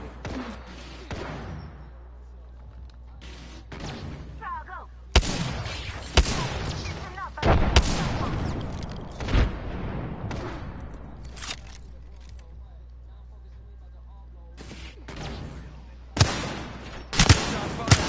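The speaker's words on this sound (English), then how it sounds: "I'm spotted. Taking fire." Gunfire in the video game Apex Legends: bursts of shots, some loud and close, others more distant, broken by brief lulls of quieter background.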